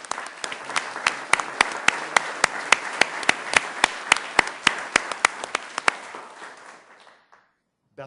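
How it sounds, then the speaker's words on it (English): Audience applause at a Sioux Falls city council meeting, a steady round of clapping from a modest crowd in a hall with a few distinct close claps, lasting about seven seconds before fading to quiet. "Let's give them a round of applause, please."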